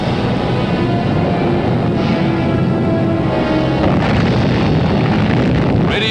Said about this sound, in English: Radioactive debris flies skyward from another underground explosion